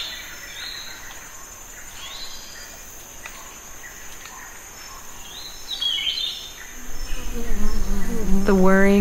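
Bees whir steadily through a forest soundscape at a Bornean sun bear rescue centre, a continuous insect drone with faint bird calls and a louder bird near the end.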